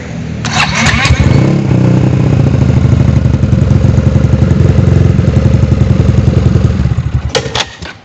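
A pink Yamaha XMAX scooter tuned to 43 horsepower, with lowered compression and run on benzol, fires up and runs loud and close with a steady rough drone, with a few sharp clicks near the start and end.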